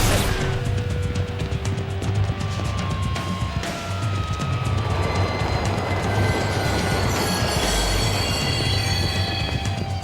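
Train in the video game True Crime NYC rumbling loudly and continuously, with heavy low rolling noise, clattering and metallic wheel squeals layered throughout.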